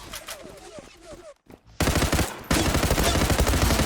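Rapid automatic gunfire bursts out in an online shooter game, dense and loud, getting heavier and more sustained after a brief pause.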